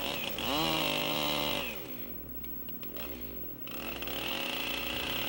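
A chainsaw scoring and plunge-cutting a lock notch in a cabin log, engine revving high, dipping as the bar bites into the wood, then climbing again, loud and close throughout.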